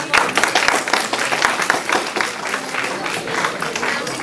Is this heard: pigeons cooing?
no